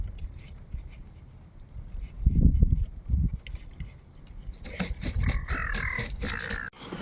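Crows caw near a riverside fishing spot with a homemade boat, harsh repeated calls rising in the latter half over rumbling outdoor background noise.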